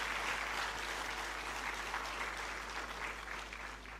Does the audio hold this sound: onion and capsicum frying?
no